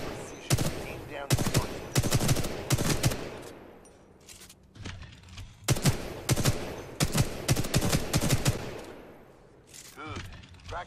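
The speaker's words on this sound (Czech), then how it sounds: "to je vlastně samopal, který má dvě hlavně" Rapid bursts of twin-barrel submachine gun fire in Titanfall 2, several loud volleys separated by short pauses, with a brief lull in the middle.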